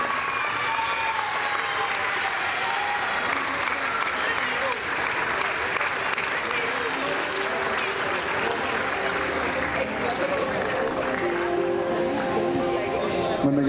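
Loud, continuous applause from a school ceremony audience, a dense crowd of clapping hands that carries on steadily for over ten seconds, with voices and crowd murmur mixed in underneath.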